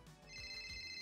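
A telephone ringtone rings during a radio interview, a steady electronic tone pattern that repeats at close range, with faint low thumps beneath it.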